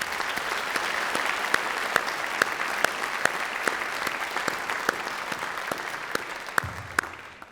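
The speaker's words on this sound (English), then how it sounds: "Let's give one more thanks of applause to that wonderful performance by Adrian Anatouan" Sustained applause fills a convocation hall after a musical performance at a conservatory, steady clapping from a large audience, mid-distance and even, tapering off at the very end.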